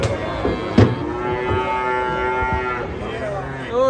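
Cattle being unloaded from a truck moo loudly and close, one long drawn-out bellow filling most of the moment, with thuds and clatter of hooves around it.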